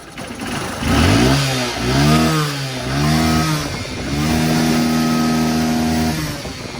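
A noisy motorcycle engine revs up and down in several loud bursts, then holds a steady high drone, close by with no talking; the engine is giving off black smoke.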